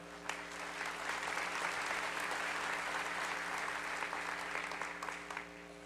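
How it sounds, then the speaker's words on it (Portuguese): A church congregation claps for the pastor's wife as she is called forward, dense sustained applause for about six seconds over a low steady hum, fading slightly at the end. "Uma salva de palmas para ela"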